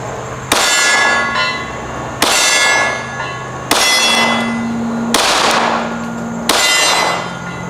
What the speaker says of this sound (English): Let's see if we can put some headshots on these little bitty steel plates.